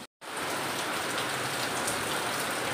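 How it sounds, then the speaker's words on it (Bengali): Heavy rain pours down outside in a dense, constant hiss at steady volume after a short silent gap at the start, with no voices. "বাইরেটা অন্ধকার হয়ে গেছে আর অঝরে বৃষ্টি পড়ছে।"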